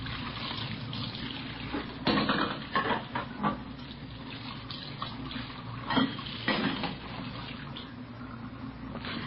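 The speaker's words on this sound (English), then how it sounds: "We found her in the kitchen washing dishes." Dishes being rinsed and washed in a kitchen sink, with steady running water from the tap and a few louder clinks and splashes of dishware standing out at intervals.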